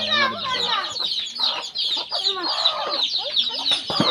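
Several chickens cluck and squawk close by in a busy, overlapping chorus that carries on without pause.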